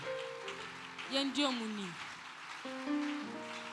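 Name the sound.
church congregation applauding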